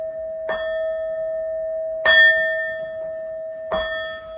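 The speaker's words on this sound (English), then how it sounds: "These next 4 bell sounds are to align us and to bless this reading." Three bell strikes ring out at even intervals during a tarot reading, each a clear, sustained metallic tone with a long ringing decay that overlaps the next, with no voices.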